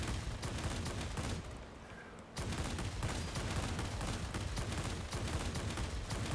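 Anti-aircraft fire crackles in World of Warplanes, a dense, steady stream of rapid bursts that runs almost unbroken, dips briefly partway through, then resumes at full strength.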